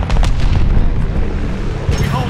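Bombing run explosions in a Call of Duty: Vanguard multiplayer match, heavy rumbling booms and blasts rolling together loud and close, with a crack near the end and game voice callouts partly audible.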